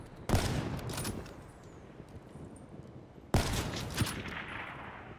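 Gunfire in Black Ops 3, two loud, sharp shot bursts about three seconds apart, each trailing off in a reverberant rumble over steady background noise.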